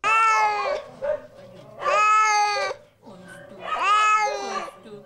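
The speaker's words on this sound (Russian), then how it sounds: "Под их мяуканье уснули ежи." Cats at an animal shelter give three long, loud, drawn-out meows in a row, close up and whiny, with short pauses between them.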